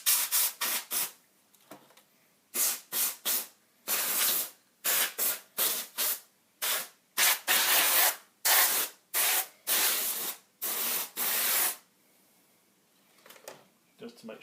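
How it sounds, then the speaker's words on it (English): A can of compressed air sprays inside a Yamaha DX7 MKII keyboard in a rapid series of loud, close hissing bursts of varying length, then stops. "this is the point where it's good to have a can of compressed air"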